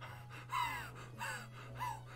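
A video game character in Hateno Village pants heavily while standing still: three breathy gasps at an even rhythm over a low steady hum, with no talk.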